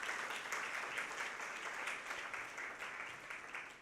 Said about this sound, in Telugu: అభినందన తెలియజేస్తుండగా గట్టిగా చప్పట్లు కొట్టుకోండి